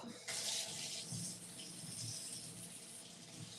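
Water from a tap runs steadily into a sink at close range, with a brief louder gush near the start while someone washes off a cut, and faint low voice traces underneath.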